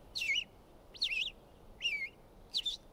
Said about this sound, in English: I hope you enjoyed learning about the red-eyed vireo